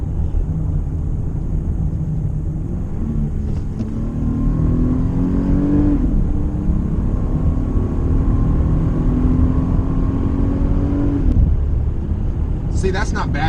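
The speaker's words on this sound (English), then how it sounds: "let's do a little acceleration here" A Volkswagen Atlas SE V6 SUV accelerating on the road, heard from inside the cabin as a smooth engine note that rises steadily in pitch through two gear shifts, with steady road rumble beneath.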